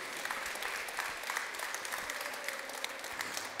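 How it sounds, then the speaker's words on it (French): A crowd applauds continuously for the champions of a Hearthstone esports final at a festival, a dense, even wash of clapping with no pauses. "Je vous demande une dernière fois de les applaudir, Drevo et Otsuna."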